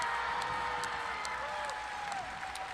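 An arena crowd applauds a high school robotics team at a regional competition, a steady distant wash of clapping under faint tonal sounds from the venue.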